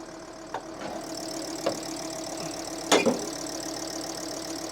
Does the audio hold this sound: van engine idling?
yes